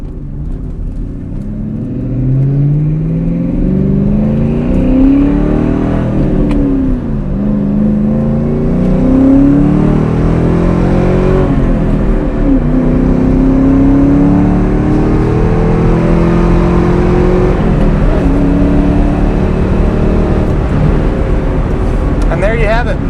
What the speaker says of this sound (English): Get in the throttle some.